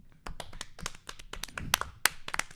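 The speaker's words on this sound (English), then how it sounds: "Does it normally end in a round of applause?" A small group in a podcast studio gives a brief, sparse round of applause, a few close, irregular hand claps and taps with no voices over them.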